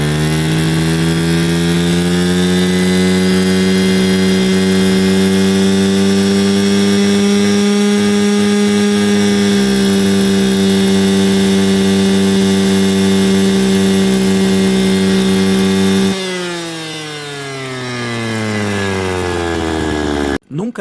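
Stihl FS 160 brushcutter engine screaming at high rpm close by, a steady loud harmonic whine that holds for about sixteen seconds, then drops off as the throttle eases before briefly picking back up at the end.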